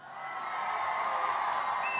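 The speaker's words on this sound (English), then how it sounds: "So I have a quick audience applause for you." A short canned audience applause effect: a brief burst of crowd cheering and clapping that swells slightly and holds at a moderate level for about two seconds.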